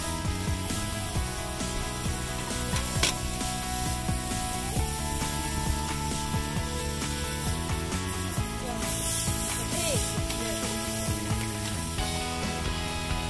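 A garden hose sprays cool water over farm animals on a hot day, a steady hiss and splatter running beneath prominent background music.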